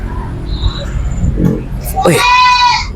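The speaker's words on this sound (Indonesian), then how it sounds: "Kenapa kambing ini berteriak terus?" A goat bleats loudly and close by, a wavering cry near the end, over a steady background rumble with people talking around it.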